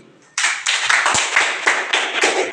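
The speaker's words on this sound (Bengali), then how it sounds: "সবাই ধ্যানের জন্য একটা করতালি" A small group in a classroom bursts into clapping after a short silence, several quick close bursts of hand claps running unevenly to the end with no talk.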